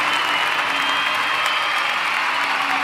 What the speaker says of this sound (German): Can't you hear the cheers?